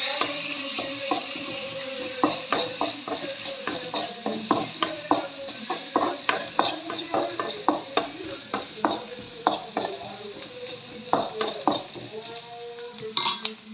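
Vegetables sautéing with salt in a pan, a steady sizzle broken by repeated scraping and clinking stirring strokes, fairly close and with no one talking.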